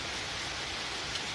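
Steady rain falls on a rainy evening in Bangalore, an even, dense patter that stays constant and close throughout the short stretch, with no voices.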